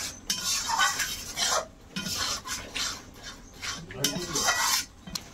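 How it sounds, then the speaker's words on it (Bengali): A spoon repeatedly scrapes and stirs chili powder spices mixed with sour yogurt in a pan for a crab curry, a close, continuous rhythmic scraping with brief pauses. "টক দই দিয়ে এবারে এটা মিশিয়ে দেবো।"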